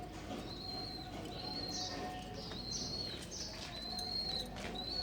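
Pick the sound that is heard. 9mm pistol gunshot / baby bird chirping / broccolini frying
baby bird chirping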